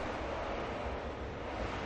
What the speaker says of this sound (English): Ooh, listen to the wind.